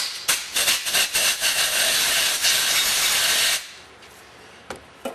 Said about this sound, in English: Blow it off compressed air